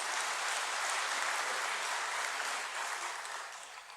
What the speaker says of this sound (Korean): 박수 좀 해, 박수.